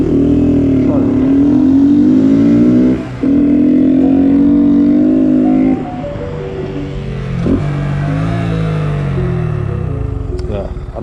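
A Honda GROM motorcycle engine revs hard during nose wheelie practice, its loud buzzing note climbing and falling in repeated surges, dropping briefly near the three-second mark, then settling into a lower, steadier idle-like drone.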